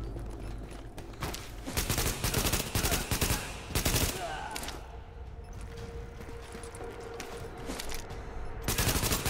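Heavy weapons fire during a Lincoln Tunnel checkpoint firefight in Tom Clancy's The Division: dense, loud bursts of automatic gunfire and booming shots pound almost without pause from start to finish.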